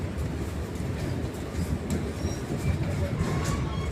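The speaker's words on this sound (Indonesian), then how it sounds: "Seharusnya kereta malam ini agak lebih cepat dari kereta pagi ya teman-teman, tapi ini yang saya rasakan kayaknya keretanya agak lambat ini." The Sindang Marga night train runs on the rails between Lubuklinggau and Prabumulih, heard from inside the carriage as a continuous, loud rumble with soft rattling.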